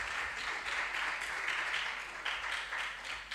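At a regional junior science and maths quiz in the Ashanti Region, an audience claps for the contestants in a brief, steady round of close, dense applause.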